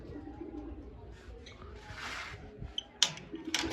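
Low cooing from a group of roosting domestic pigeons rolls on steadily, with a few sharper clicks and chirps near the end and faint voices in the background.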